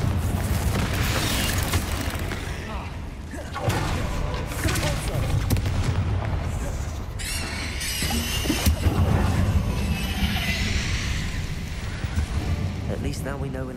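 Booming blasts and crackling bursts from the Confringo fire spell in Hogwarts Legacy, dense and loud, layered with shrill squeals and a raised voice over continuous combat noise.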